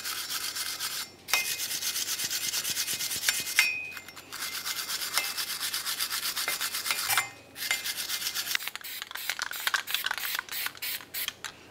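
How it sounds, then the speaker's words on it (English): A wire brush scrubs between the studs and the center of a front wheel hub on a 2000-2006 Chevy Tahoe. Bursts of harsh, rapid rasping repeat in strokes with short pauses, loud and close. "Now we'll continue on with a wire brush, try to get in between the studs and the center of the hub."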